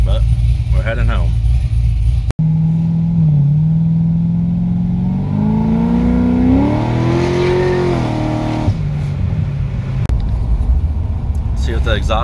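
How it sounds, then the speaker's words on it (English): A cammed LS3 in a C6 Corvette, mufflers open, rumbles loudly from inside the car, revving up and easing off with a choppy idle at both ends, and someone speaks over the exhaust. "I don't know if you'll be able to tell, but that's them open now."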